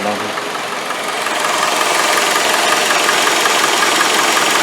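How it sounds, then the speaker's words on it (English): A Honda CR-V engine with an oil leak from a bad variable timing filter seal idles close by, a loud, steady broadband rumble that swells slightly after the first second and holds. "the engine running right now"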